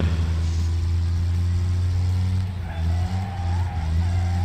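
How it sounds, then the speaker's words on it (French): Engine drone of a compact car drifting in the racing game Wreckfest, a loud steady low hum with a rising tire squeal and revving partway through. "Drift. Bon, c'est du drift made in compact."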